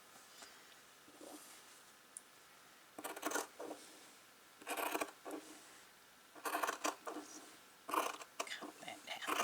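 Scissors snip through fabric in a few short, quiet bursts of crisp cutting separated by pauses, close up in a calm indoor setting during slow stitching work.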